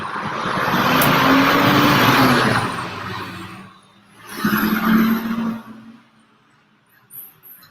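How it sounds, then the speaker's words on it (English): A big truck rolls past on a road, its engine and tire roar swelling loud and close before fading, followed by a second vehicle passing more briefly, with no talking. "Just big truck."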